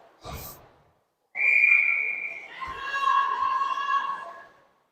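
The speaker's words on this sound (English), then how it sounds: "Quick whistle by the ref there." Referee's whistle at a ringette game: a short burst, then a long shrill blast and a second wavering one, loud and close over faint arena noise.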